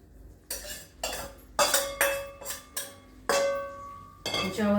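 Spoon stirring poha with sugar in a metal pan over a low gas flame, a steady series of ringing metallic scrapes and clinks, close and clear, with no talking.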